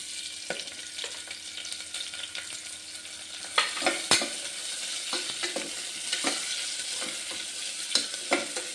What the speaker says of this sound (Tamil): இப்போ நம்ம வெங்காயத்தை போட்டுக்கலாம்